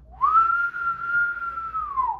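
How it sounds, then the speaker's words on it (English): A person whistles one long, sustained note that rises slightly at the start and dips at the end, loud and close, with no talk. "did I forget how to whistle? There we go."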